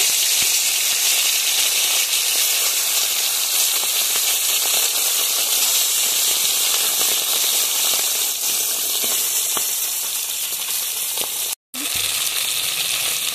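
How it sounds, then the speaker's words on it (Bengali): Fresh pond fish rubbed with salt and turmeric fry in oil in a wok, giving a loud, steady, close-up hiss and sizzle that runs continuously, with a brief dropout near the end. "আর মাছগুলো দিয়ে ভেজে নেব।"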